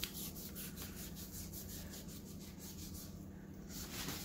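A soaking wet rag is rubbed over a tumbler during temporary-tattoo application, giving a quiet, steady back-and-forth scrubbing with an even rhythm.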